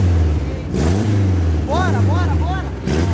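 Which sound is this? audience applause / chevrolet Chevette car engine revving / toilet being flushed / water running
chevrolet Chevette car engine revving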